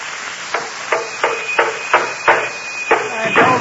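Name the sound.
hammering nails, radio drama sound effect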